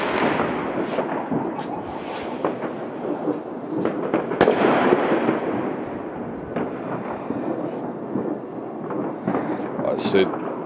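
New Year fireworks rockets bursting outdoors, a dense continuous barrage of crackling and booming explosions, some near and some distant, with a voice speaking briefly amid the noise.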